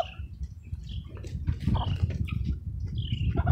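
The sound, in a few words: chickens in a garden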